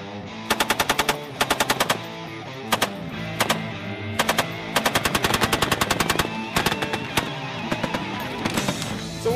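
An M240 Bravo 7.62 mm machine gun fires in several sharp automatic bursts of varying length with short pauses between, loud and close.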